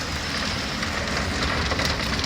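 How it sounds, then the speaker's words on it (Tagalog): Steady rain falls in a dense, even hiss of drops on surfaces nearby, continuous and fairly loud, with no voices. "Umuulan kasi."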